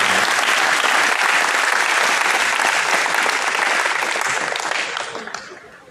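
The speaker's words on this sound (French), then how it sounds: "Sous applaudissement, nous allons quitter Caxman Brutus." Loud, dense applause from a large crowd at a high school graduation ceremony, steady for several seconds before starting to thin out near the end.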